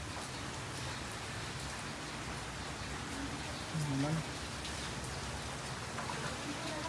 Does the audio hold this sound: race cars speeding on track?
no